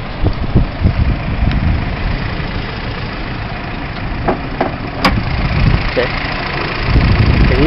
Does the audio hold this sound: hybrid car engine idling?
yes